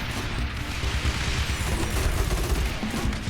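Mortars firing in the tower-defense game Rogue Tower, a continuous rumbling barrage of booms and blasts with no pauses, steady and fairly loud throughout.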